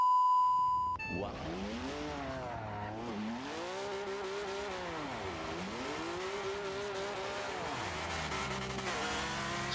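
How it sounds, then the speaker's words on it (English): A BMW E46 and a BMW M4 run at an ESDA exhibition at Lime Rock. A short electronic beep comes first, then engines surge and fall repeatedly through the revs amid screeching tire squeal, close and sustained, with no talking. "E46 versus M4"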